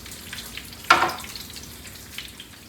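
Chicken sears in a pan for a Tuscan chicken dish, a soft, steady low sizzle broken by one sudden sharper hiss near the start, with no talking.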